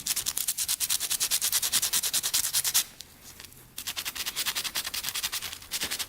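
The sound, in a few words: sandpaper cleaning electrical leads on Honda ATV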